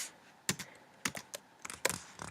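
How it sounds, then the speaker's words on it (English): Quick bursts of typing on a computer keyboard, light irregular key clicks in short clusters, close and fairly quiet with no voices. "So I'm going to type in Digital Story"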